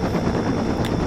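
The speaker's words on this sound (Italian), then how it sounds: "Tanto gli elicotteri passano." A helicopter in Saints Row 2 thrums with a dense, steady rotor chop, loud and close, filling the whole moment without any voices.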